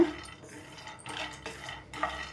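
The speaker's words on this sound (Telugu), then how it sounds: "ఇప్పుడు ఇదే కడాయి పెట్టేసుకొని ఇందులో ఒక కప్పు పల్లీలు వేసుకుందాం అండి" Peanuts dry-roasting over a low flame in a kadai, stirred with a ladle: soft scraping and light rattling of the nuts against the metal pan, with a few louder stirring strokes, nearby and fairly quiet.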